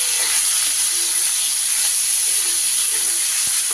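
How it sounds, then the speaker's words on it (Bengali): Prawns frying in hot mustard oil in a wok give a steady, loud, continuous hiss and sizzle that holds evenly throughout with no talking. "তেলটা বেশ ভালো করে গরম হয়ে গেলে এবার ওই তেলে আমি চিংড়ি মাছগুলোকে ভেজে নেব।"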